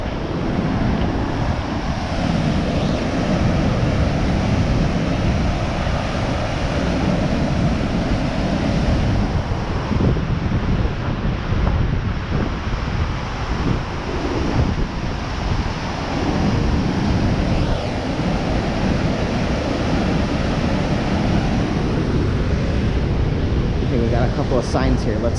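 Waterfall at Little River Canyon in Alabama roars in a steady, loud, dense wash of rushing water that never lets up, with some wind buffeting.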